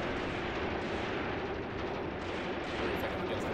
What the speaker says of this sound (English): That's a nice machine gun fire.